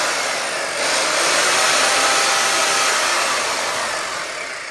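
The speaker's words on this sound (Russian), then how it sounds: "Вот такая штука, миксер. Вот. Это мешаю канди." An electric mixer churning bee candy fondant, a continuous loud broadband whir with a faint rubbing texture, steady for several seconds and tapering slightly at the end.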